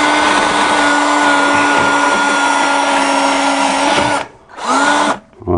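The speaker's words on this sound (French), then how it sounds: "on commence déjà par brosser la vis" A power drill with a brush spins up loud and close to clean a screw thread on a Peugeot 307 rear suspension during a rear spring job, giving a steady high motor whine that cuts off twice near the end.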